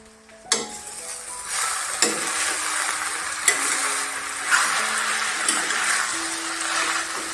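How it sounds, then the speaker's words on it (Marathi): Shredded sweet potato and potato fry in a pan over medium-low heat. A steady sizzle sits under a series of sharp spoon scrapes and knocks against the pan, close and fairly loud. "गॅस मिडियमपेक्षा कमी घे करायचा आणि हलवून घ्यायचं व्यवस्थित"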